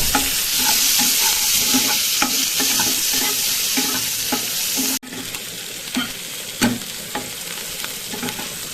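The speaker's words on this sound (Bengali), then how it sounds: "পেঁয়াজ লঙ্কাটাকে ভালো করে একটু ভেজে নেব।" Chopped onion and green chilli sizzle and fry steadily in a pan, with a loud continuous hiss and occasional stirring clinks, no voices.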